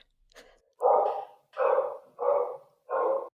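Dogs bark four times in a steady, evenly spaced series, each bark loud and full, close by with short pauses between them and no talking.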